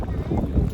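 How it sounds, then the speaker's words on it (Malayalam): Cool wind gusting at Malampuzha dam, a short burst of low buffeting rush against the microphone, loud and close. "നല്ല കാറ്റാ"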